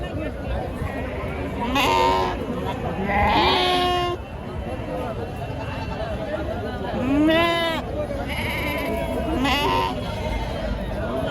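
Amingada breed lambs bleat at a busy livestock market, with several loud, wavering calls standing out over constant crowd chatter and nearby talk.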